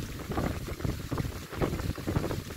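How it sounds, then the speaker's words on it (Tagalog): Strong wind gusts on a ship or boat at sea in bad weather, a continuous broad rushing roar with wind buffeting the microphone, rising and falling in surges with no voices. "Tunog ang hangin, ah. Sumisipol."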